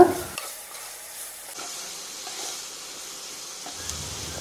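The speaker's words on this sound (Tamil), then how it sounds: "இதை எல்லாத்தையும் நல்லா வதக்கி விட்டுக்கோங்க" Garlic, onion and pumpkin sizzle gently in butter in a pan while a utensil stirs and scrapes through them, a soft steady frying hiss throughout.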